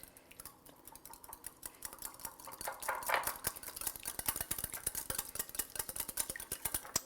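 Kale and cabbage slaw with olive oil, salt and pepper gets tossed in a bowl, making quick, fairly faint rustling and clicking strokes that pick up pace and continue steadily, with no talking.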